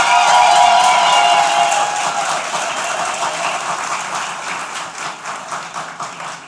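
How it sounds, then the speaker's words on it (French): Applause from the audience at an ESGIS graduation ceremony, loud and full at first, then thinning out into scattered, rhythmic claps that fade toward the end. "Alors faites vivre un peu la salle par des applaudissements"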